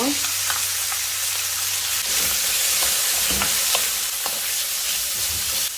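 Chicken fries in olive oil with garlic and ginger for an Indian curry, producing a bright, steady sizzle close by with soft stirring knocks scattered throughout.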